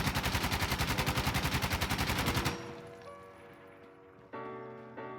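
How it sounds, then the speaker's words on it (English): Full-auto AK-74 with a foregrip fires a sustained rapid burst in the video game Insurgency: Sandstorm, loud steady shots for about two and a half seconds, then a ringing echo tail and a few faint mechanical clicks. "So this is full auto AK-74 with foregrip."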